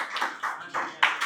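A classroom group gives a few quick rounds of clapping during a lesson, short bursts of claps coming in a steady rhythm, fairly close and without other sound.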